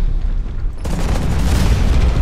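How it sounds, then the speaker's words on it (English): A grenade explodes in the video game Hawken: a loud, sudden boom that rolls into a dense, sustained rumble lasting about two seconds, with no talk over it. "I threw a grenade over"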